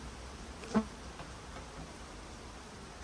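Honeybees at an opened, smoked hive give a faint, steady insect hum over quiet background noise, with one brief clack near the start.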